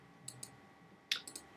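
Soft clicking taps from the iPhone OS 4.0 on-screen keyboard while typing a new note, a few quiet isolated clicks followed by a quick cluster of taps.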